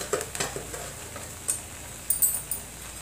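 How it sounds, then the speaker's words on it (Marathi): Dry spices, turmeric and chili powder, go into brinjal and potato frying in a pan, with soft sizzling and a few light stirring scrapes and taps, close and fairly quiet. "तर यात टाकूया आपण आता सुके मसाले, जे आपण रेग्युलर वापरतो ते."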